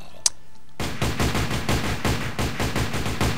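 Rapid automatic gunfire in the Minecraft MineZ mod: after a brief quiet with one sharp click, a dense, steady stream of shots runs loud and continuous to the end.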